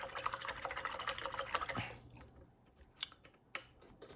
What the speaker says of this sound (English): Just cleaning my brush really quickly.